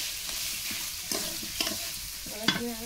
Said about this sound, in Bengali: আলুটা দিয়ে আমি পেঁয়াজ রসুন আদা সাথে ভালো করে কষিয়ে নেব